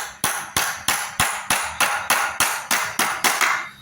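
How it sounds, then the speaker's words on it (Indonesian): Hammer blows drive nails into wood while building a chicken coop, eleven sharp, evenly spaced strikes close by, each ringing briefly before the next, with no talk. "baru kita paku."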